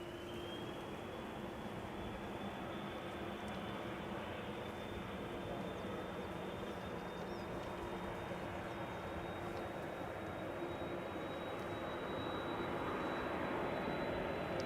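An airliner taking off from Schiphol's Polderbaan runway, a loud continuous jet roar with a rising engine whine that holds steady and swells slightly toward the end.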